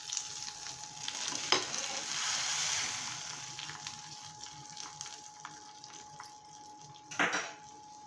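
Mustard seeds, cumin, garlic and curry leaves sizzle softly in a spoonful of ghee, a low steady frying hiss with a couple of sharp metal clinks of a spoon against the pan.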